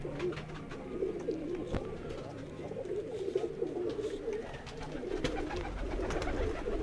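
Domestic breeder pigeons, a home-bred pair raising chicks on a rooftop loft, coo in a steady low murmur throughout, with a few sharp knocks or wing flaps and faint background noise.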